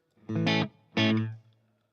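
Electric guitar played clean, with no delay or reverb, through a Friedman IRD amp with slight grit: two strummed chords, each ringing briefly before a short decay, up close and with no talking.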